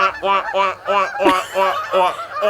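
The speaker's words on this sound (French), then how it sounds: "ça, c'est les outardes qui reviennent." A flock of Canada geese honking repeatedly in overlapping, rhythmic calls, loud and fairly close.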